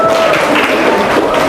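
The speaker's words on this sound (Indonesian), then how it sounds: "Boleh tepuk tangan buat bapak-bapaknya" Brief burst of audience applause for the fathers at a school gathering, a dense wash of many hands clapping at once, loud and close, with some crowd murmur mixed in.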